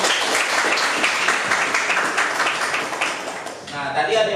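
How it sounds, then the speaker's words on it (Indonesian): Students in a technical drawing classroom clap together, a brisk burst of many hands mixed with voices, then thinning out at the end. "Oke, tepuk tangan dulu."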